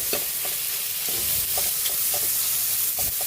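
Ground pork frying in a pan while being stirred, with a continuous close sizzle and repeated scraping stirs throughout, no talking.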